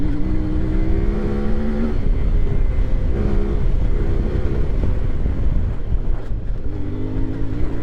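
A CFMOTO Ibex 450 motorcycle engine drones and rises in pitch as it is ridden along an off-road trail, with steady gear-held tones, brief revs and constant wind rush over the microphone.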